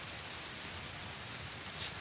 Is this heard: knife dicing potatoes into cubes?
no